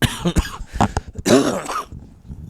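A close, harsh bout of coughing from a commentator with a chest cold at a boys' high school soccer match, with a few rough throat-clearing bursts in quick succession.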